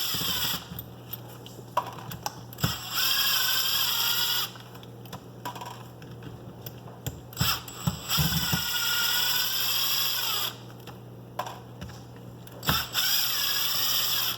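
Screws are driven out of an AK-917 RC car differential, with a high, steady mechanical whine running in three long stretches. Small clicks and taps of handling fill the gaps between runs.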